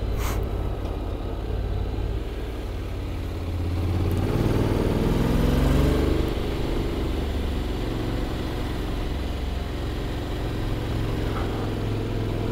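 A 2022 Honda X-ADV motorcycle rides around a village, its engine a steady mid-range rumble that swells for a few seconds midway, then settles into a constant drone with no talking.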